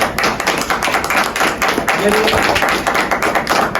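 A congregation at a Pentecost service claps loudly for the Holy Spirit, with close, vigorous hand claps and taps and voices mixed in under the clapping.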